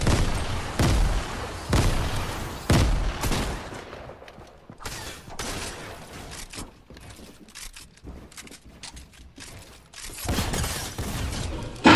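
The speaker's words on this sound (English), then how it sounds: "He's throwing nades at you, watch out." Video game shooter combat with grenade blasts and gunfire: a string of loud, sharp bangs and bursts near the start, quieter scattered shots and rattling in the middle, then another heavy burst toward the end.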